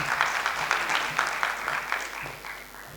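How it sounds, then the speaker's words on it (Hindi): Audience applause at a lamp-lighting inauguration ceremony of a cultural society event, steady clapping from a hall crowd that fades slightly toward the end. "जोरदार तालियां"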